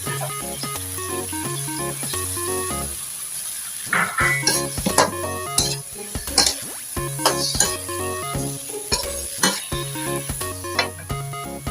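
Eggplant stir-fried with fermented soybean paste sizzles in a hot pan, with scraping stirs and clatters in the middle stretch, all under steady background music.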